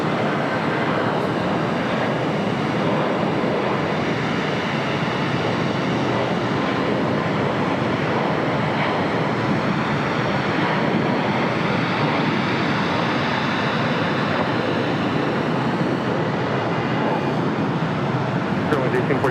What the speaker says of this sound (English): Next takeoff is Spirit Airlines flight 478 heading to Baltimore, Maryland on an A321 Neo.